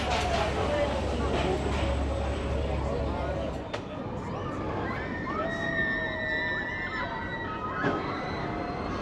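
A roller coaster train rolls into the station at Liseberg amusement park, a dense rumbling wash over crowd chatter, then thin whining metallic tones that rise and slide as the cars brake and settle.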